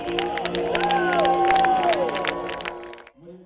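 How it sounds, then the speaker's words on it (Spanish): A church congregation applauds and cheers a choir, the clapping and crowd noise mixing with sustained singing or musical tones, fairly loud before dropping off abruptly near the end. "Sin retener ningún aplauso y ovaciones, los miembros de Centro Milagroso expresaron su apoyo al mejor coro del mundo"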